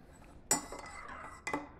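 A spoon clinks against a coffee cup in two quick bright bursts, the second a second after the first, close by in a quiet room.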